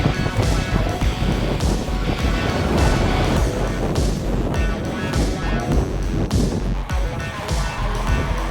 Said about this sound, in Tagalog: Grabe talaga yung lakas ng hangin.